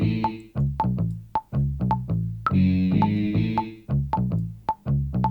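A bass guitar loop recreating the line from a song plays up close: short, punchy plucked notes in a repeating syncopated pattern with brief gaps between phrases, heard alone without speech.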